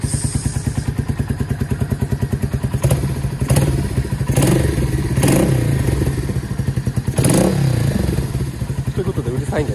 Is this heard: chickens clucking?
no